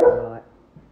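A dog lets out one loud, close bark that trails off into a faint whimpering sound.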